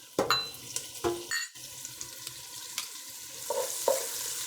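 Sliced leek rings fry and get stirred in a pan of vegetable and sesame oil, giving a soft sizzle under a few scraping and clinking stirs, close by and fairly quiet.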